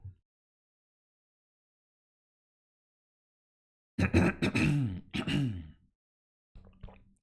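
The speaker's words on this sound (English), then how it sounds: "I'm coughing a lot today." After a long silence, a person coughs in a few harsh bursts close by, then gives one softer cough shortly after.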